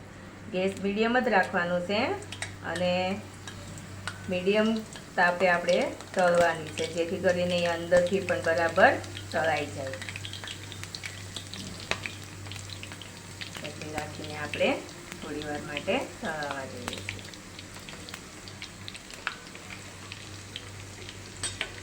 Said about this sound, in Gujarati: હવે તેલ ગરમ થઈ ગયું છે હવે એમાં આપણે આ વળી તળી લઈશું